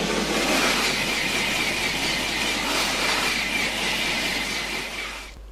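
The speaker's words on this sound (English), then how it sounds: "Here's one of the high-speed trains travelling on one of the limbs of the triangle." A high-speed train travels along one limb of a triangular flying junction, roaring loudly with broad rushing wheel and air noise and a faint sustained squeal, steady throughout before cutting off abruptly near the end.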